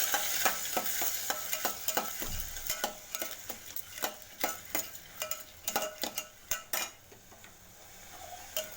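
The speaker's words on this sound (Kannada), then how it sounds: "ಚೂರು ಉಪ್ಪು, ಸ್ವಲ್ಪ ಅರಿಶಿನ ಪುಡಿ ಹಾಕಿ ಚೆನ್ನಾಗಿ ಮಿಕ್ಸ್ ಮಾಡಬೇಕು." Ingredients mixed with salt and turmeric powder in a pan for a bean palya, a spoon clicking and scraping against the metal in an irregular series of close taps over a faint background hiss.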